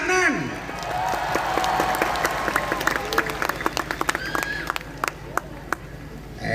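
Audience at a Pasuruan religious gathering (pengajian) welcoming a guest star: loud crowd applause at first, thinning into scattered individual claps toward the end, with voices and music underneath.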